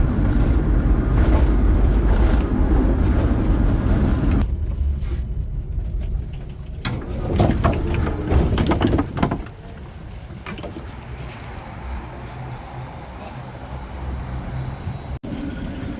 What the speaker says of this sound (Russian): Мы едем в трамвайчике, потому что мы устали.